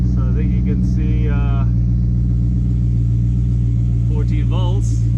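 A Porsche 928 engine idles steadily just after starting, a constant low rumble under a man's speech throughout.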